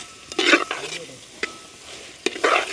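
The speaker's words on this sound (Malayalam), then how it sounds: "ശർക്കര ഒന്ന് ഇതിനകത്ത് കിടന്ന് മെൽറ്റാവുന്ന രീതിയിൽ നമുക്കൊന്ന് ഇളകി കൊടുക്കാം" A spoon stirs melting jaggery into banana payasam in a pot, producing a few short scraping strokes and soft clinks against a faint low sizzle.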